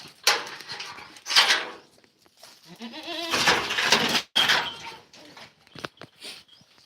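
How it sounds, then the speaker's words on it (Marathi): Goats bleat repeatedly at close range, with wavering cries and thuds and scuffling between calls, noisy and uneven. "शेळ्या कशा भांडणं करतात बघा मारामारी करतच असतात"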